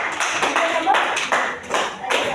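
A classroom of students claps together in a run of brisk, bright bursts that rise and fall over a couple of seconds, with faint voices mixed in underneath.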